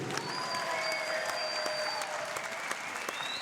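A crowd at the Ireland BJJ Invitational, a professional jiu-jitsu event, applauds the winner of a match; the steady clapping sounds somewhat distant and subdued, with faint tonal sounds running through it.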